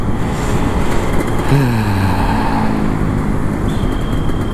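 Kawasaki Ninja RR 150 two-stroke motorcycle revving in traffic, a steady buzzing engine with a brief rising rev partway through, loud and close amid road noise.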